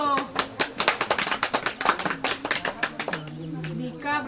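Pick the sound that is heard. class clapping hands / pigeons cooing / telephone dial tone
class clapping hands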